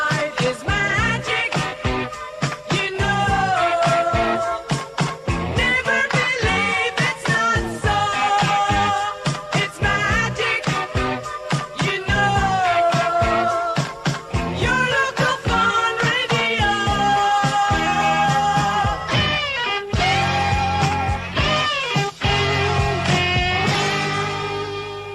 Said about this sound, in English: it's a jingle you did for our sister station through in Glasgow